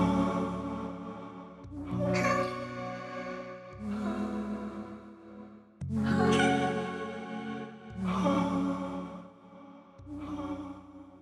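Soft ambient synth chords for a chill beat, played as a slow progression of sustained pads, each swelling and fading in turn with brief gaps between them, with no drums.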